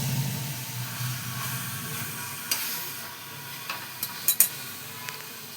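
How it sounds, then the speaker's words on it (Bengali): Chicken stirring and frying in a pan with spices, a soft steady sizzle punctuated by a few scraping stir strokes near the end, no voices. "নাড়িয়ে ভেজে সুন্দর করে জল ছিটিয়ে করে নেব, এটাতেই আমার সেদ্ধ হয়ে যাবে।"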